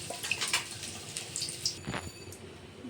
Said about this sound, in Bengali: চালটা ধুয়ে দিয়ে দিলাম